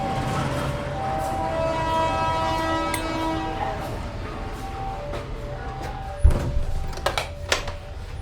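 A train horn sounds in long tones, then a locomotive with an SH short-hood end leaves a station at Lubuk Alung near Padang, with a sharp clank, rumbling and rail noises as it moves off.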